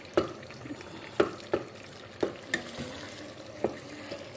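Coarse minced beef keema sizzles gently in a pan while a spoon stirs and scrapes it, giving sharp knocks at irregular intervals over a soft, steady frying hiss.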